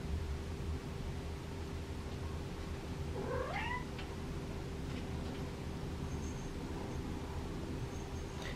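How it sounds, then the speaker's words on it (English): One rescued kitten gives a single rising, wavering meow partway through, fairly faint against a steady background hiss and hum, with no talking. "And here's the kittens. They're ready to come upstairs."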